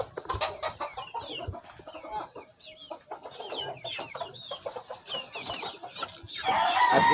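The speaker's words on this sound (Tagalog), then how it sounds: "Binisita ko po yung kanyang mga manok." SBR hens and other chickens on a Philippine backyard farm, clucking in a dense, continuous chorus close by, with rising calls and a louder burst of flock noise near the end; no talking.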